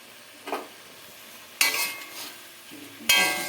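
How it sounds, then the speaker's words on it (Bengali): Bele river fish masala is stir-fried in a pan: three short, close bursts of sizzling and scraping come at uneven intervals, each louder than the one before, with quiet pauses between them and no talking. "দেখছেন, আওয়াজটা শুনলে বুঝতে পারবেন যে কতখানি কষিয়েছি।"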